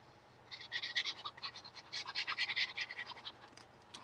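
A Gemini die-cutting machine grinds and scrapes noisily in a rapid, pulsing series of rough mechanical strokes, close by with no talk.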